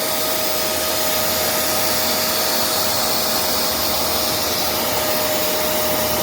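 A Shark MessMaster vacuum cleaner runs at full suction, a loud, steady, unbroken roar with a constant whine on top, heard close and alone.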